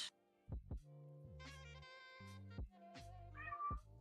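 Several short cat meows with low thumping beats underneath, repeated in a steady pattern, close and clear.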